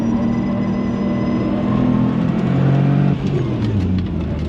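A fast car running E85 fuel accelerates hard on a hot lap, its engine droning loud and close, pitch rising steadily before a brief dip and climb.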